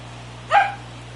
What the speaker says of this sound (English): That's my dachshund in the background, Ginger, barking.